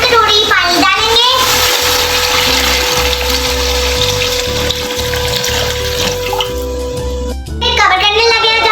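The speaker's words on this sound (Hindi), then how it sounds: "अब हम इसमें 5 कटोरी पानी डालेंगे।" Water pours into a pot of rice and green peas for matar pulao in a steady, close gush lasting several seconds, with a person talking just before and after.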